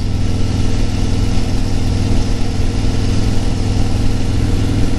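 A new motorcycle's engine runs steadily on a ride up Cheaha, a loud, continuous low rumble with slight surging that holds close and constant throughout, with no talking.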